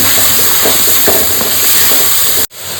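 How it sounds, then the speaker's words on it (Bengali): Onion sizzles loudly in hot oil in a pan with a steady hiss, broken by occasional stirring scrapes, then a sudden brief cut before the sizzle resumes. "পেঁয়াজটা একটু ভাজা ভাজা করে নেবো।"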